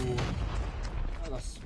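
Booming grenade blasts and gunfire in the shooter game Dark Void, a dense run of loud explosive bursts mixed with voices.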